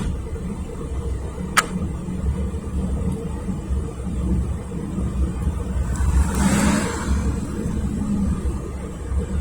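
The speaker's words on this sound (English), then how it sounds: "We'll let this car come across." A car drives across near a CSX rail line in Lynchburg, Virginia, a steady engine rumble under outdoor ambience that swells as it passes close by midway, then fades slightly.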